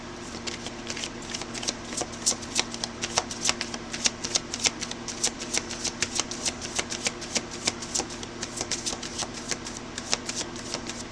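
Tarot cards being shuffled continuously, a steady run of crisp riffling clicks and flutters, close and fairly loud with a faint background hum and no talking.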